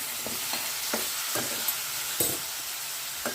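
Oil being stirred and mixed in a pan for an old-style home chicken curry, a soft sizzle under repeated scraping strokes of a spoon at irregular intervals, close up with no speech.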